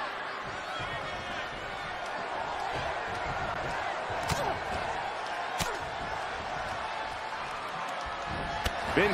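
A wrestler takes a kick to the gut in the WWE 2K20 video game, a sharp slam-like impact cutting through steady arena crowd noise, with a couple of other thuds nearby.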